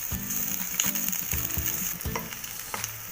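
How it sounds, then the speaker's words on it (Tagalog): Garlic and onion sauté in a pan for sardines with malunggay, a bright continuous sizzle broken by repeated spatula scrapes and knocks against the pan, close up with no voices. "So ngayon, nalagay na natin yung bawang. Hintayin natin mag-brown. Next po natin yung onion. I-mix lang natin."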